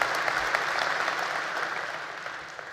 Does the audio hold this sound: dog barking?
no